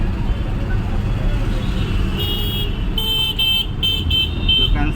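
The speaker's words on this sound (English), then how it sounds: "You can hear the horn from other vehicles, unnecessary honking." Several car horns toot in short bursts over the steady roar of peak-hour city traffic during the Diwali rush, heard from a vehicle crossing the city, with a voice talking underneath.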